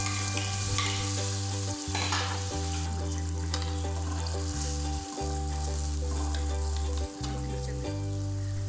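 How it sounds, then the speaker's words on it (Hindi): Spiced masala for chicken kofta curry sizzles steadily in a hot pan while being stirred, with a continuous close frying hiss and brief scraping pauses, no voices. "ये देखें माशाल्लाह कितने अच्छे तरीके से मसाले की भुनाई हो रही है।"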